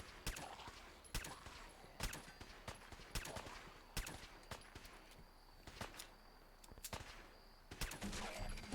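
Gunfire in Fallout 4, a string of sharp individual shots fired at a steady, uneven pace, fairly distant and quiet with small gaps between bursts.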